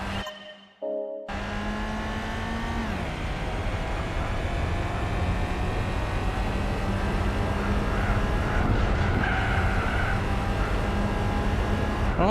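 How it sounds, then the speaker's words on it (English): Mercedes race car in Gran Turismo 4, its engine droning loud and steady with a sustained rising tone and tire noise, after a brief quiet start. "Sounds like a Mercedes, that."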